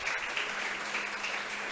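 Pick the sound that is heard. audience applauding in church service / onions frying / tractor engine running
audience applauding in church service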